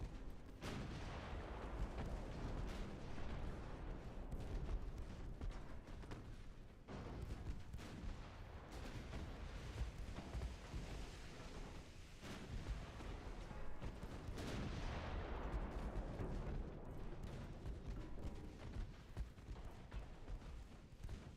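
Naval gunfire in the warship battle game Ultimate Admiral Dreadnoughts, a sustained barrage of heavy booming shots and crackling bursts rolling continuously with several louder blasts standing out.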